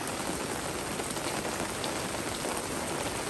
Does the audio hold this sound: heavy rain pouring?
yes